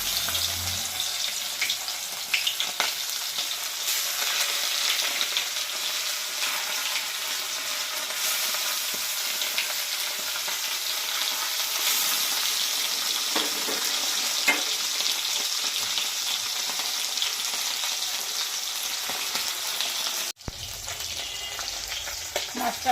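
Bata fish frying in hot oil in a wok, a dense, continuous bright sizzle heard close up and alone for most of its length, with a brief break near the end.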